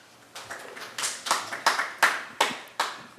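Audience clapping at moderate distance at a city ordinance committee meeting, a scattered run of individual claps in uneven rhythm rather than a dense ovation, with no voices.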